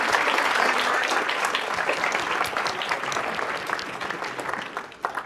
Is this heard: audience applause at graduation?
yes